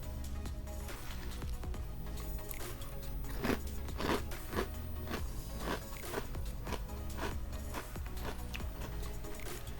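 Crunchy bean-based cereal with milk being chewed, with repeated crisp bites and crackles over a steady low background, close and fairly clear, no talking.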